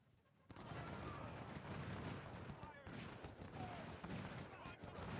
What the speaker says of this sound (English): yeah, everybody's firing.